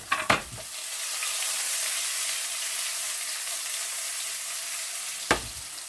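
Onions, curry leaves and chili sauté in hot oil in a pan, a close, continuous frying sizzle framed by a couple of sharp utensil knocks at the start and near the end.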